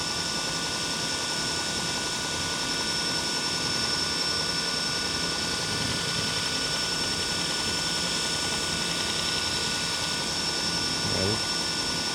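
A Toolcker 1x30 belt sander runs steadily at 2,000 RPM, giving a continuous loud whirring drone with a high tonal whine and no break across the whole stretch.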